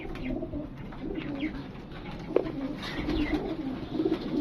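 Pigeons coo softly and repeatedly against a steady background murmur, with a few wing flutters and small clicks nearby.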